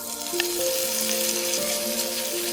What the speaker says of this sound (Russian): На разогретую сковороду немного сливочного масла и потом туда бекон, жарится.